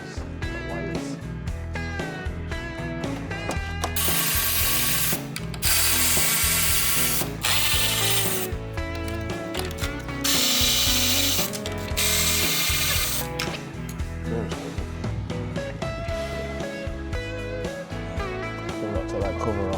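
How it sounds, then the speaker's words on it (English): Snap-on ratchet clicking away on an Audi R8 V10 exhaust during a rattle fix, giving a close, rapid ratcheting in bursts with brief pauses, with workshop noise and occasional voices in between. "Where that snap-on ratchet?"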